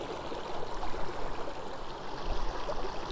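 Water coming to a boil in a GSI Halulite 1.1 L aluminium boiler pot, a steady, even rushing hiss with soft bubbling that holds at a constant level throughout, with no voices.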